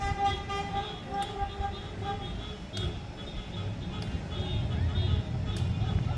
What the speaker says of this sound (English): were honking horns